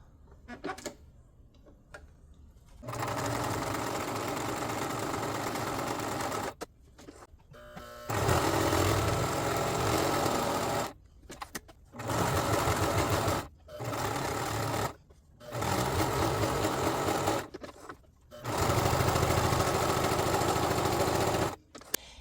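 A sewing machine runs a seam on a cosplay costume piece, its steady motor whir coming in repeated bursts of a few seconds separated by short pauses.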